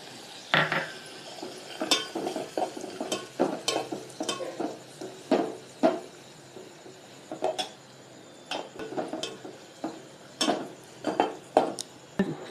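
Cashew nuts sizzling and frying in a pan while being stirred for a coconut vermicelli and sago payasam, with repeated scraping and clinking stir strokes over a steady light sizzle, close and fairly quiet, no talk.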